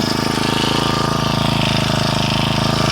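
A Honda 32cc four-stroke engine with the choke on runs close and loud, holding a steady, even idle for the whole stretch with no voices.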